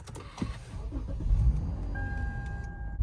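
Lexus GS350 AWD with a faulty steering angle sensor pulling away on the road, low engine and tyre rumble building under a faint whine, heard from inside the car and without talk.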